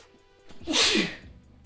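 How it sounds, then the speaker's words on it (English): A single person's sneeze, a short sharp burst of breath rising to a loud peak then fading, close and alone in a quiet room. "Excuse me, I have to sneeze."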